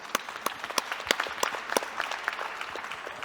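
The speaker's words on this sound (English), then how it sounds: "I think it was a good round of applause nevertheless" A conference audience applauds panellists after a discussion on major sporting events, dense sharp hand claps from a room crowd that swell briefly and then thin out, with no speech.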